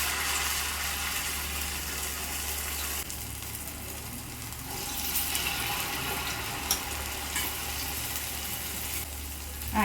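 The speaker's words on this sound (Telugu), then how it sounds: "ఇప్పుడు ఆనియన్ గార్లు వేస్తున్నానండి." Onion garelu fry in very hot oil, producing a continuous crackling sizzle at moderate level with a low hum beneath, shifting slightly as batter is added, with no voices.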